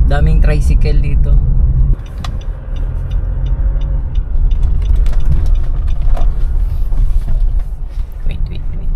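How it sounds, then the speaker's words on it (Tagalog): Motor tricycles drive through a busy street, their engines rumbling loud and close in a steady rolling drone, with a voice talking over the traffic at times. "Daming tricycle dito."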